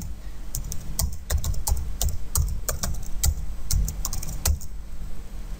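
Brisk bursts of key presses on a computer keyboard as a number is typed, close and crisp clicks in uneven clusters over a faint background hum.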